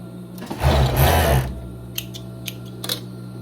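A sewing machine stitches the armhole finish of a cardigan in a single loud burst of about a second, followed by a few light mechanical clicks at close range.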